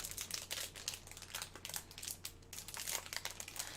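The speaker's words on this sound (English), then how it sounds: "you're hearing the crinkling of me opening up a dice." Plastic packaging crinkles as a six-sided die is unwrapped, giving a faint, continuous crackling and rustling close by with no voices.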